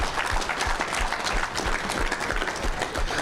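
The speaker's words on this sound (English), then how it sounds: "Give them a round of applause." A banquet audience at an awards ceremony applauds a list of sponsors, brisk crowded clapping that carries evenly through the short stretch with no talk over it.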